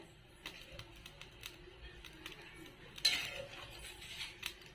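A metal lid set down on a pot of boiling masala rice, a bright clatter near the three-second mark amid scattered small clinks and light kitchen knocks, close and fairly quiet.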